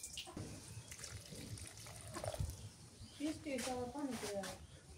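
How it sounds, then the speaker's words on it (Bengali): A hand-pumped tubewell gushes water in bursts as the handle is worked, splashing and gurgling close by while a person talks over it. "তাহলে একটা চাপ দেবো, এই যে একটা চাপ দিই, দেখেন কি গল গলে পানি বের হয়।"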